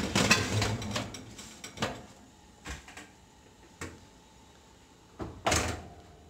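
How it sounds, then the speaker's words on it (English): A heavy metal lid clanks down onto a Dutch oven holding sourdough bread, followed by a few lighter knocks and scrapes, then one final solid clunk, with no talking. "I'm going to go ahead and put the lid on"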